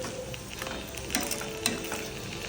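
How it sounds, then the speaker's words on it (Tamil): Mutton gravy tempering crackles and sizzles steadily in a hot pan, with a continuous frying hiss and a few louder pops, close up and without speech. "இப்போ நம்ம அதை தாளித்து விட்டுடலாம்."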